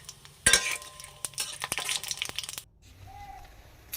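Whole spices (garam masala, cumin seeds, dried red chillies and two bay leaves) are stirred as they fry in a pan, with close clattering scrapes and sizzling that stop abruptly, leaving a quieter tail.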